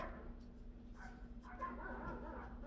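A dog gives faint, repeated short barks and yips from somewhere in the room, quiet and a little distant.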